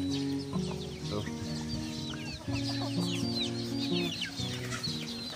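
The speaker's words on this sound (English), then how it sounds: "sounds of a chicken," Farmyard chickens cluck and murmur continuously at moderate distance, a busy overlapping chorus of low calls with a few sharper squawks, steady throughout with no talk.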